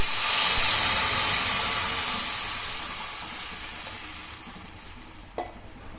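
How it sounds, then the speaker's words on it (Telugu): Water poured into a hot tempering of mustard seeds, garlic and asafoetida sets off a loud, close sizzling hiss that slowly fades over several seconds, ending with a brief clink. "ఇప్పుడు దీంట్లో వాటర్ వేసుకుంటున్నానండి."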